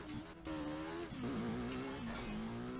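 Motorcycle engine in Burnout Paradise on Nintendo Switch, droning steadily at high speed with pitch rising and dipping through gear shifts, loud and continuous without talk.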